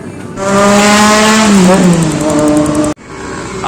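A Yamaha Mio Sporty motor scooter's engine revs hard and loud up close, its pitch climbing, dipping and holding before cutting off abruptly near the end.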